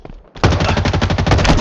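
Rapid automatic gunfire in the video game Halo Infinite during a Capture the Flag match, a loud sustained burst of quick shots starting abruptly after a brief quiet moment.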